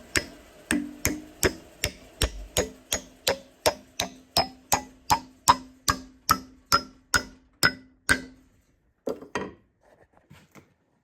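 An axe head is hammered onto a wooden hatchet handle in about eighteen sharp, evenly spaced ringing blows. A few lighter knocks follow after a short pause.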